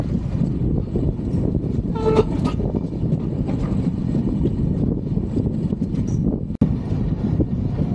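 The Kamakhya Capital Express runs from Siliguri toward Kamakhya with a loud, steady rumble and clatter of wheels on rails, heard from aboard the moving train, with a faint horn-like tone partway through.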